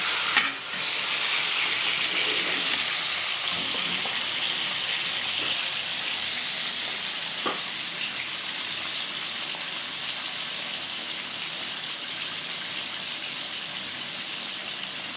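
Fish frying in hot oil, a loud, constant crackling sizzle that starts with a sharp burst and then holds steady, with occasional stirring clinks.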